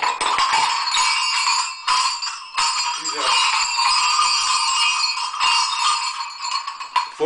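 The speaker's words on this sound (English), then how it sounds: "Himalayan animal bells" Handmade brass Himalayan animal bells from Nepal jingle and clink continuously, a dense bright chiming with irregular shaking, close and fairly loud throughout.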